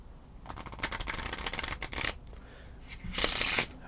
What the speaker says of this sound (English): And I'll even give the deck a shuffle.